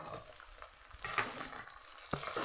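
Curry leaves and garden-grown green chillies fry in a pan over high heat for a chicken gravy, giving a soft, steady sizzle and crackle, faint and close, with no talking.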